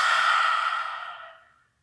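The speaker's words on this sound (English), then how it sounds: "we're going to take lion's breath" A long, forceful breathy exhale through an open mouth during a yoga lion's breath, close and loud at first, then fading smoothly into silence, with no talking over it.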